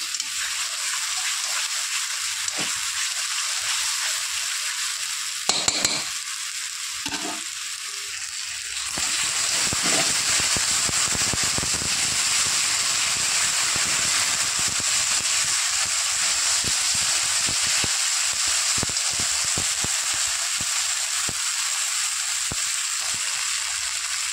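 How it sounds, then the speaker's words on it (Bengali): Ginger, onion and garlic paste sautés in a pan with a constant hiss and sizzle that grows louder partway through, as stirring scrapes and spatters crackle over it. "আদা, পেঁয়াজ, রসুনের পেস্টটা ভালো করে আমি কষিয়ে নেবো"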